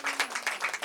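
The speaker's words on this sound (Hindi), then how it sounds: "जोरदार ताली बजाएंगे।" Audience applause at a Hindi-language Christian church sermon, a short burst of broadband clapping with rhythmic swells, fairly close and loud, no voices over it.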